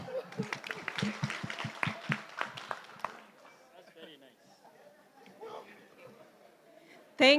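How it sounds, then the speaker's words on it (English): Audience clapping in a conference hall at a national climate outlook forum, a short burst of rhythmic claps up front that fades into scattered room noise and murmuring, ending with a sudden loud knock. "Let's clap."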